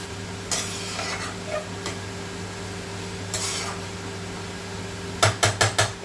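Potatoes and banana stem with spices being sautéed in a pan, with soft stirring scrapes and a faint sizzle, then a quick run of four sharp utensil knocks against the pan near the end.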